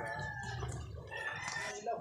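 A chicken clucks and calls in a short burst, moderately close, with faint background noise.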